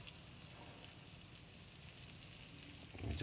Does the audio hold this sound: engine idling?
no